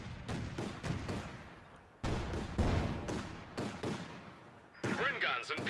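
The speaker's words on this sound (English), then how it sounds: "We see artillery barrage going right on top of them." Artillery barrage and mortar fire in the strategy game Company of Heroes 2, a run of heavy booming impacts and blasts in quick succession, loud and near, with a commentator talking over them.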